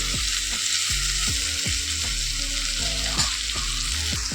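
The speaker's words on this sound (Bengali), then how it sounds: "আলু হচ্ছে ভালো করে লাল লাল করে ভেজে নেব" Potato pieces fry in hot oil in a pan, a constant loud sizzle broken by regular scraping strokes of a spatula stirring them, with no talking.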